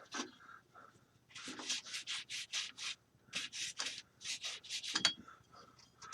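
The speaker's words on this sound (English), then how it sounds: "Scrub down the whole thing." Rapid back-and-forth scrubbing with paper towel on a workshop control box or metal surface, in quick rhythmic bursts of rubbing with brief pauses, close and fairly quiet.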